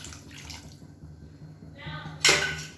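Cornflour mixed with water is poured into a pot of mutton soup and stirred in, a soft sloshing pour under low kitchen hum, ending in a brief louder splash.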